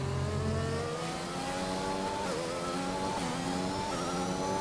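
A race car engine in the F1 2021 video game drives a qualifying lap on medium tyres, a steady loud whine rising and falling through gear changes, with a lower rumble at the start.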